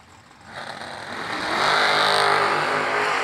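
Drag race cars, a Roadster and a Chevy Camaro, launching down the strip, engines swelling from a rumble into a loud, sustained roar that builds and holds.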